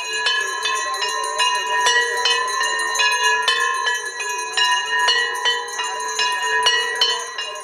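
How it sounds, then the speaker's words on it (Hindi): Temple bells ring during the evening aarti on the Saryu riverbank in Ayodhya, bright metallic strikes repeating in a quick, continuous rhythm with long ringing overtones, loud and close. "घंटियों की ध्वनि"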